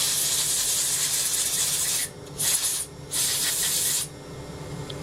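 A spray gun blows powder coating off a part with a loud, continuous hiss up close, cutting in and out in short bursts around the middle before resuming steadily.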